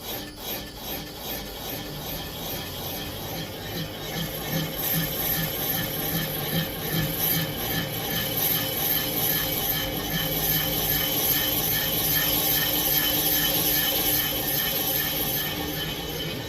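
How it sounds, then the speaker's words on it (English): A boring tool machines the flange of a wet sleeve engine block, giving a steady close grinding, scraping rasp with a fine rhythmic chatter that swells slightly and holds through the pass. "we've got our boring tool set in for the correct diameter of this flange right here. And so it's got just a little scraping going on"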